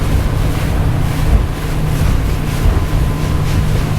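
A Windy SR44 motor boat cruising through waves, with a loud, steady engine and hull rumble mixed with rushing water and heavy wind buffeting the microphone throughout.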